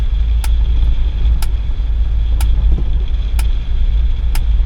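An old, previously abandoned Mercedes 300CD is driven with its engine giving a loud, steady, low rumble. Sharp clicks tick about once a second over the engine, and no one speaks.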